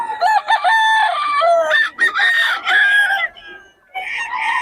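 Several gamecocks crow one after another at close range, loud drawn-out calls overlapping and trailing off with short gaps, a couple of clucks mixed in.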